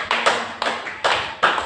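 Church congregation clapping hands for Jesus during a sermon, four crisp, evenly spaced claps close by with no talk.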